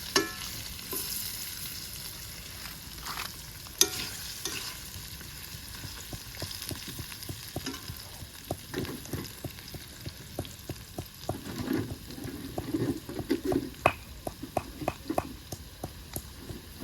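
Goat meat fries in a little oil at an outdoor picnic, giving a steady sizzle broken by frequent sharp clatters and scrapes as it is stirred, close and continuous, with no voices.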